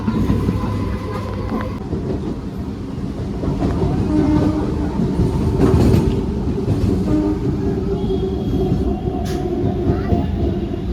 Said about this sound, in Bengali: শ্রীরামপুর থেকে ট্রেন ছেড়েও দিয়েছে